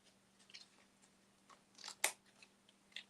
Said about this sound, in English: Let me just cut a straight piece.